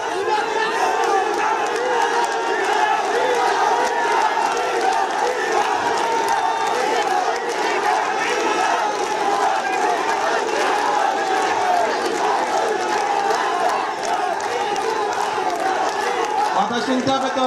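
A large crowd at a political rally in Bangladesh chants and shouts demands for a Comilla division, a loud, unbroken mass of voices that rises and falls without pause.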